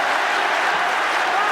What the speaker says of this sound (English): the crowd begins chanting Yoshida's name